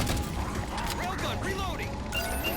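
A railgun fires at Phantom dropships in the video game Halo 4, with heavy mechanical clanking and crashing blasts layered over dense, continuous battle noise.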